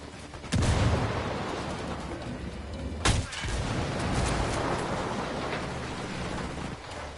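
Gunfire and a frag grenade blast from the video game Ghost Recon Wildlands are heard as a dense, roaring wash of combat noise, with two sharp loud bursts standing out over the constant rumble.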